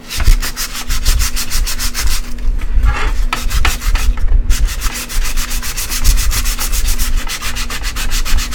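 Sandpaper is rubbed in fast, rhythmic back-and-forth strokes, loud and close, with a short irregular stretch in the middle before the steady scraping resumes.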